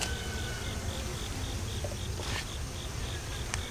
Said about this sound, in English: There's some bees down here, plenty of bees down here, but not a ton.